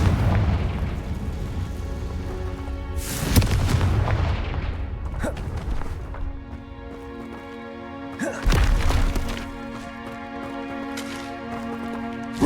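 Booming spell blasts from Hogwarts Legacy: a heavy explosion lands around three seconds in and a second one near eight seconds, each rumbling out over a sustained low drone of game music.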